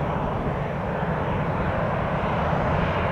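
A steady, loud roar of a United airliner's jet engines during its takeoff run at Tampa airport, a continuous broadband rumble with no talking.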